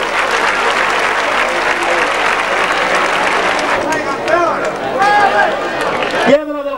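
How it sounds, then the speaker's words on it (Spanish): Loud, dense applause from a crowd at a street bull-dodging event in Vinaroz, cheering a performer's kneeling dodge; steady clapping fills the whole stretch, with voices calling out over it and a sharp break near the end. "Un fuerte aplauso para el Chipu, por su gran quiebro"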